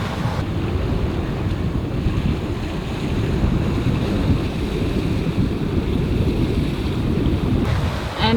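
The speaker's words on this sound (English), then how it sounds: "the wind picked up and we trimmed it" A sailboat under way on a beam reach in freshening wind, with steady rushing water and waves along the hull plus buffeting wind noise on the microphone, continuous and loud with no talk.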